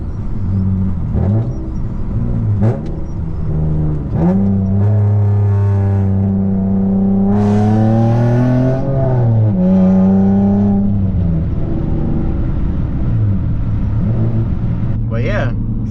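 A manual-swapped Nissan Maxima cruises in sixth gear at low revs, its engine a steady low hum with harmonics that rise and fall under continuous talking from inside the car.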